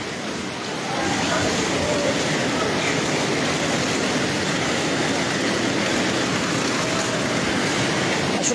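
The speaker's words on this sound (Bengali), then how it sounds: "আমরা আপনাদেরকে যুক্ত করেছি রাজধানীর কমলাপুর রেল স্টেশন থেকে" A train rumbles steadily through Kamalapur railway station in Dhaka, a continuous loud rolling roar with faint clatter that swells after the first second and holds.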